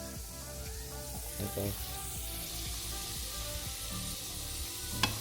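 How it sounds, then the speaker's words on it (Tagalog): Potatoes fry in a pan for a corned beef breakfast, with a soft, continuous sizzle and crackle and occasional stirring clinks; a voice briefly says a word over it. "So ngayon, piniprito ko lang muna yung patatas."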